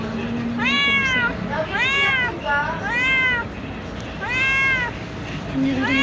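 A hungry cat meows repeatedly while food is set down for it, several drawn-out, rising-and-falling cries spaced a second or so apart, close and clear over low background noise.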